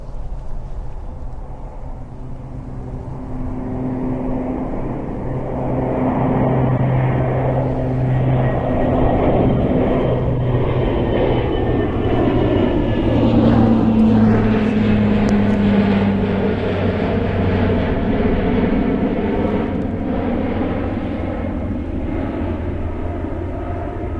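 An aircraft passes at RAF Mildenhall, a loud continuous engine roar that swells and shifts in pitch as it goes by, steady throughout with no talking.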